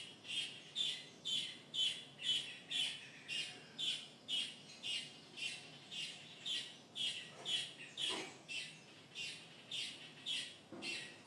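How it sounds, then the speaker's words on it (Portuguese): Free birds in a jackfruit tree repeat a sharp squawking call about twice a second in a steady, even rhythm. The calls are fairly faint and set against quiet background noise. "Olha o passarinho cantando."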